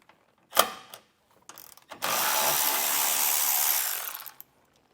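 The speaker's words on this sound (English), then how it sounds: "A 13mm socket is going to accomplish that." A 13mm socket wrench backs bolts out of a 2024 Ford Maverick during a Demco base plate install: a few short metallic clicks, then a long steady loud whirring ratchet run of about two and a half seconds, up close.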